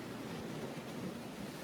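The Irish Sea laps at the water's edge below the Blackpool promenade steps on an outgoing tide, a steady, soft wash of surf with a little wind, no voices.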